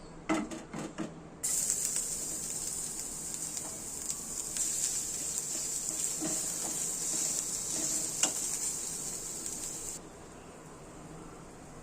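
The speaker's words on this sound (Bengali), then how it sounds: "এবার এর মধ্যে দিয়ে দেবো আমরা রসুন কুচি" Chopped garlic frying in two spoons of hot white oil, a bright steady sizzle that starts abruptly after a few ticks and clinks, with occasional stirring taps, then cuts off.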